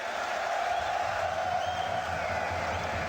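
A packed arena crowd at the BLAST.tv Paris Major Counter-Strike final between Vitality and GamerLegion roars in a steady, dense wall of cheering that stays constant throughout, with faint voices blended into the noise.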